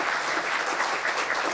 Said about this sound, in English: let's have a warm round of applause for our speaker